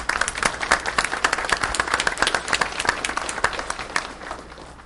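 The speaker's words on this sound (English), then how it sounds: "Another round of applause," Applause for students at a school board meeting: a room full of people clapping steadily and fairly loud, the claps dense and even before thinning slightly at the end.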